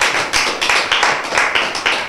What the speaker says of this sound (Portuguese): Diretamente do Golfo, aplausos para a italiana.